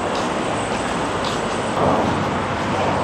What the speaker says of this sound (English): So now I'm going to put the drone up.